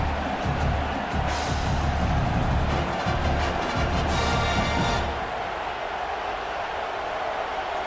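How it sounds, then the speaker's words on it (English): A full-throated stadium crowd roars at a college football game, Tennessee at Michigan State, as a broad, loud, continuous wash of noise that swells and eases slightly after about five seconds. "This crowd, full throat, splitting the eardrums"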